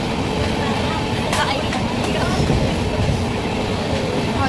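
A moving train carriage rumbles steadily throughout, with faint clickety-clack and people chattering over the constant rail noise.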